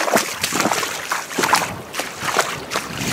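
Footsteps sloshing through knee-deep flood water on a rural property with thawing snow, rhythmic splashes every half second or so, close and fairly loud, with no talking over them.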